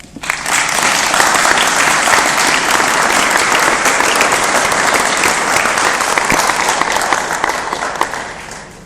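Loud, sustained applause from a conference audience in Quebec City welcoming a speaker to the stage, a dense wash of clapping that holds steady for several seconds and fades at the end.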